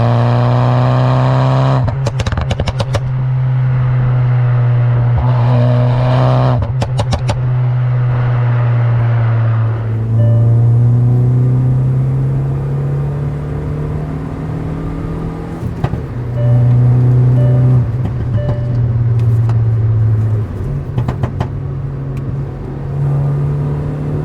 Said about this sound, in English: it makes such a nice noise from this exhaust system that the owner has fitted